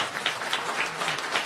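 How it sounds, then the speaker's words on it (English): A crowd at a live meet-and-greet event with KTR for the Indian American diaspora claps steadily, a dense burst of applause filling the room. "I think that deserves a bigger round of applause"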